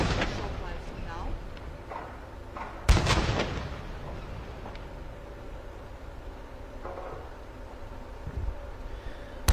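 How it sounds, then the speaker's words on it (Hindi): A ceremonial cannon salute fires for the President of India at an Indian Navy review, one sharp loud boom ringing out over open-air ambient noise, with a fainter thud near the end. "Honorable President of India receiving 21 guns live on your screen."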